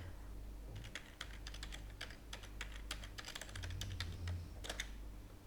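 A password is typed on a computer keyboard, a steady run of quiet, close key clicks for several seconds over a low background hum.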